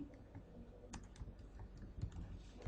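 Someone types on a computer keyboard in quiet, scattered bursts of clicking keystrokes, faint and uneven in rhythm, with no voices.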